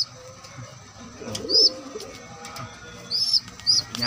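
Pigeons give soft low coos close by, with a few brief high chirps and faint wing or cage rustles scattered through, and no speech heard.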